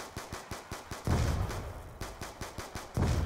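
Steady paced gunshots from a weapon in a zombies shooter game, evenly spaced cracks at a quick rhythm, with a few louder, heavier blasts mixed in.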